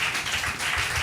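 A church congregation claps together in a brief, steady burst of dense, overlapping handclaps that fill the room at a moderate level.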